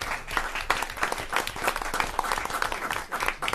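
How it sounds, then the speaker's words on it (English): Applause at a county board of education meeting to honour schools' book collection, a moderate burst of clapping from a roomful of people that runs steadily throughout. "you all deserve applause"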